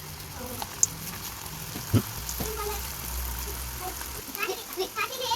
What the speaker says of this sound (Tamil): இப்போ ஒன்றா எடுத்து எண்ணெயில் போட்டு பொரிச்சிக்கலாம்.